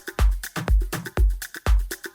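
Sparse afro house drum groove with deep, booming kicks and crisp hand-drum hits, played alone in a steady loop with a mid-tempo, syncopated feel.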